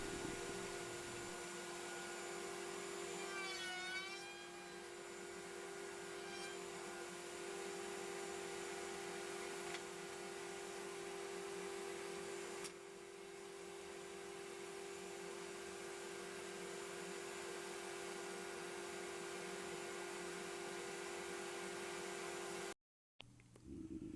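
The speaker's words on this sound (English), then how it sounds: "Next, I route the notch in the rail to mate with the divider." Router on a router table cutting a notch in a wooden rail, a loud continuous high-speed whine and roar that holds steady for about twenty seconds before abruptly cutting off.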